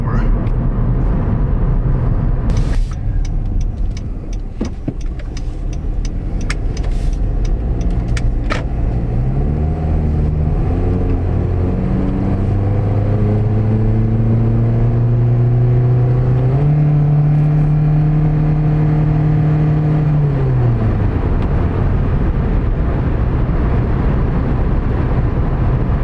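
A car's automatic transmission shifts up through the gears in drive, the engine note climbing and dropping in clear steps over a steady loud rumble, with someone talking intermittently over it.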